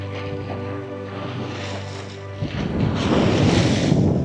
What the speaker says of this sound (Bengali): কত জোর ঢেউ আসছে।